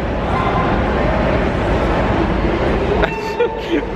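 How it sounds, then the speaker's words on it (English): Train approaching and passing, a loud sustained rumble that drops away near the end, followed by brief faint voices. "Train is coming."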